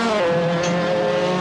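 Race car in a racing video game at the Interlagos circuit, a sustained high engine whine with shifting pitch as it slides through a corner, loud and continuous.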